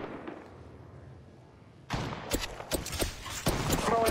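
Gunfire in the game Apex Legends Mobile: after a quiet opening, a rapid run of loud close shots breaks out, with uneven bursts and spent-casing clinks carrying on to the end.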